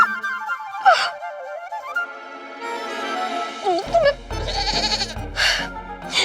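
A goat bleats a few times indoors in a domestic drama scene, wavering cries set against background music with a low rumble later on.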